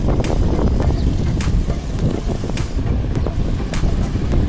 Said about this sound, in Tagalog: Wow, lakas ng hangin.